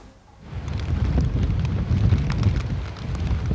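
Heavy rain and gusting wind from the outer rainbands of Typhoon Rainbow lashing Hong Kong: a dense, steady roar of downpour that swells after a quiet start and stays loud and continuous throughout.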